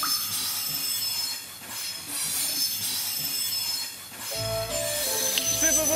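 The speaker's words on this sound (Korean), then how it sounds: "기차 지나가나 봐. 여기 기차가 다니는 게." A mountain funicular railway in Europe climbs past a cliff, its wheels squealing in loud, sustained metallic tones over a rumbling roll that deepens toward the end.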